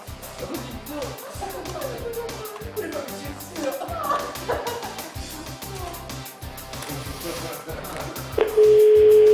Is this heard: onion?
no